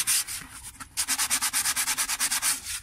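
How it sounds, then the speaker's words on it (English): A plastic part being hand-sanded during a restoration, with a brief rasp followed by a quick, regular run of about fifteen back-and-forth scratchy strokes, close and fairly loud, without voices. "Just sand it a bit more."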